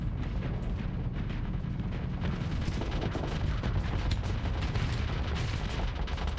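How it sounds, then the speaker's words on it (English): Spaceship weapons in the Starsector game fire in a dense, continuous barrage, a steady roar of overlapping blasts and booms with no pauses and no voices. "Let's just keep shooting it until it dies."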